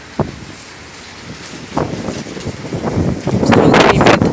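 Strong wind buffets the microphone outdoors in Batumi, with gusts building from fairly light to a loud, roaring rush near the end, accompanied by scattered rattling and banging nearby.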